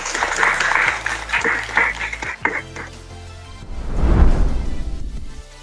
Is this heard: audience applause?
yes